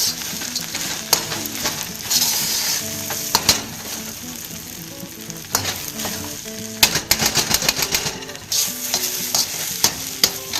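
Bacon gets stirred into fried rice in a hot pan, with a continuous loud sizzle and repeated close scraping and clattering from a spatula in uneven bursts.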